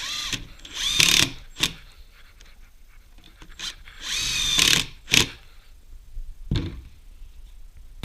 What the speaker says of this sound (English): Pre-drilling prior to running the screws in